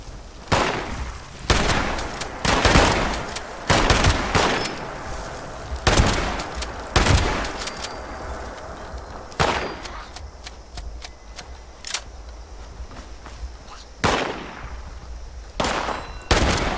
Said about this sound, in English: Good thing I got the shotgun.